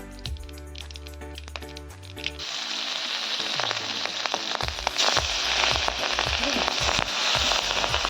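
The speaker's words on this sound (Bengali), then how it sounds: "একদম হালকা করে মাছটা ভেজে নিচ্ছে এখানে" Pieces of hilsa fish frying lightly in hot oil give a steady, loud sizzle with scattered crackles and pops, following a short stretch of music at the start.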